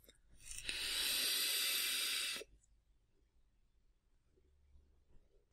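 An Ehpro Epoch vape is drawn at 50 watts, giving one steady, loud, breathy hiss that lasts nearly two seconds, cuts off abruptly, and leaves quiet room noise behind.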